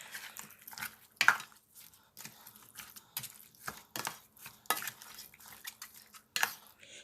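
Seasoned beef stirred in a pot for Nigerian egusi soup, with a series of sharp spoon-on-pot scrapes and clinks at uneven intervals, close and distinct against a quiet background.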